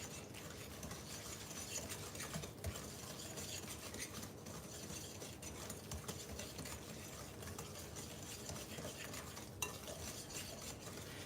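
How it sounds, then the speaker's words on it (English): A spoon stirs chewy fudge brownie batter in a bowl, giving soft, continuous scraping and swishing that stays faint and steady with no talking. "we'll go ahead and give this a stir"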